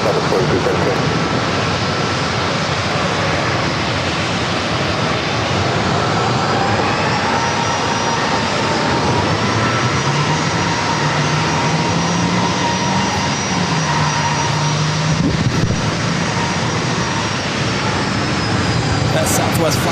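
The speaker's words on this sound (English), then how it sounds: "That Southwest flight coming in from El Paso, Texas, flight 508" Southwest passenger jet, flight 508 from El Paso, Texas, arriving at San Diego airport, its engines a loud continuous roar with a slowly shifting whine, while a voice talks over it.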